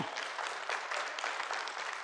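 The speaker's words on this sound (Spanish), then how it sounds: "Démosle un aplauso al Señor" Church congregation claps together in praise during a Spanish-language sermon, a dense, steady patter of many hands filling the room for about two seconds with no talking over it.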